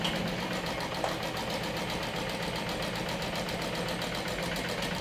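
A sewing machine stitches a quarter-inch seam joining two fabric pieces for a bag gusset, running with a steady, continuous mechanical hum and rapid needle rhythm throughout, fairly close and alone.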